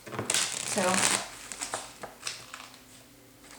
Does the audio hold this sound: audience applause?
no